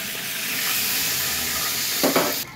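Steady crackling sizzle of food frying in hot oil, close and continuous, with a brief clatter of utensils near the end.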